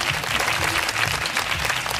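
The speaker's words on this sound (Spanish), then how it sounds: "Fuertes, fuertes aplausos de todo el stand" Steady, dense applause from an audience at a belly dance event, loud and continuous throughout with many hands clapping at once and a faint crowd murmur beneath.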